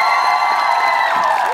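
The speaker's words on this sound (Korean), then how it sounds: "박수 부탁드리겠습니다." Studio audience on a Korean TV talent show applauding and cheering after a dance performance, a loud, dense wash of clapping and crowd noise with faint whoops, steady throughout.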